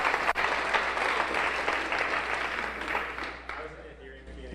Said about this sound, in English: Everyone, a round of applause.